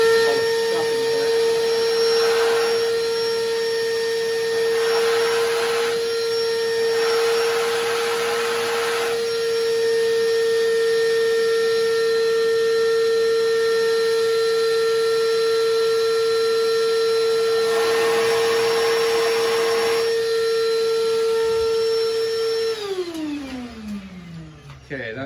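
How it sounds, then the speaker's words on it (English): A shop vacuum runs steadily and loudly for about twenty-three seconds, clearing debris from the spark plug wells of a 2005 Mercedes C230 W203, then winds down as its motor spins to a stop. "we're going to fire up the vac here and suck out all the stuff"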